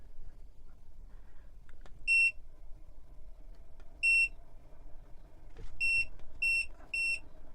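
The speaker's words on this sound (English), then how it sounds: "I'm gonna turn on the air conditioner." An OutEquipPro 12V rooftop air conditioner being switched on gives short, high electronic beeps: a single beep, another a couple of seconds later, then a quick run of three, all over a faint low hum.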